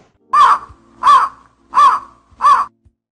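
Crow cawing: four harsh, evenly spaced caws about two-thirds of a second apart, loud and near, with silence between calls.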